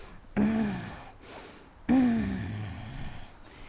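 A human voice imitates an 8-year-old bulldog with breathing issues, making two throaty, rasping grunts about a second and a half apart, each fading into a breathy tail.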